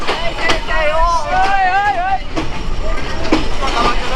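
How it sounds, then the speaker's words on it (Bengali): The Chilahati Express pulls into the Akkelpur station platform with rumbling, clattering wheels and a wailing, rising-and-falling whistle or horn tone. Loud and close, with chatter from the crowd on the platform. "আক্কেলপুর রেলওয়ে স্টেশনের প্ল্যাটফর্মে আমাদের চিলাহাটি এক্সপ্রেস ট্রেনটি এখন প্রবেশ করলো"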